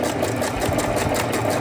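An overlocker sewing machine stitching the edges of dress fabric, a fast, even mechanical whirr with a steady rapid rhythm, close and moderately loud.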